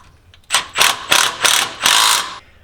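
A hand ratchet tightens the shock mount bolts on a Toyota Sequoia, giving five rapid bursts of close, crisp clicking, the last one longest, with no talk.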